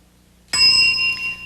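A game show bell rings once after a short quiet lead-in, a bright sustained ding that holds and slowly fades, loud and close with no talk over it.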